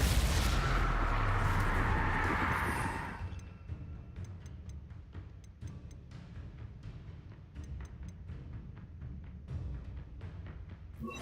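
A Bombarda blasting spell explosion in Hogwarts Legacy, a loud, sustained blast filling the first few seconds, followed by a long rumbling tail with scattered sharp pops and crackles.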